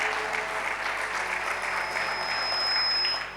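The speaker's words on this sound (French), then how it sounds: "Clap your hand for Jesus." A church congregation claps for Jesus, sustained dense applause from many hands filling the room at an even level throughout.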